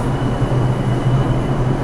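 A New York subway train rumbles steadily and loudly, a dense low roar with a faint high whine running unbroken throughout, with no voices over it.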